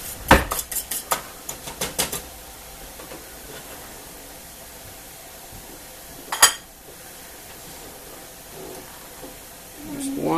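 Maple garlic sauce being poured and spooned into glass jars, with a quick run of sharp clinks and clatters of glass and metal at the start, a single loud clink midway, and quiet handling in between.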